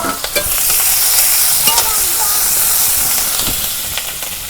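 Chopped onion and green chili hit hot oil with a loud, steady sizzle and hiss, broken by brief scrapes of stirring throughout.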